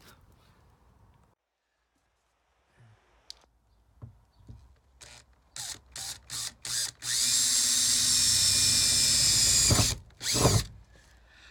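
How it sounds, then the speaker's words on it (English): Power drill boring pilot holes to fit a side ladder bracket on a Crafter van, starting with short trigger bursts, then a loud sustained whine for a few seconds before stopping with a final brief burst, close up. "Okay, so 2 pilot holes done."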